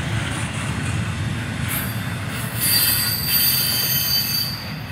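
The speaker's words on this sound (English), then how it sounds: "That was a nice long train." A long CSX westbound freight train of containers rolls past close by, its wheels squealing in sharp, shrill bursts over a constant heavy rumble.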